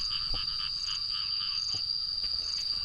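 Frogs croak in a rhythmic chorus after rain over a steady high insect drone, with repeated pulsing calls at a moderate distance, near flooded rice fields in Laos.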